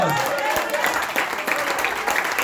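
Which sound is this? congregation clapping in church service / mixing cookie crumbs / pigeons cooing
congregation clapping in church service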